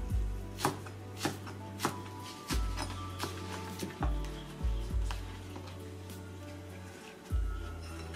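A meat cleaver chops food on a board in a series of loud, close thuds, irregularly spaced with short gaps, against faint kitchen background noise.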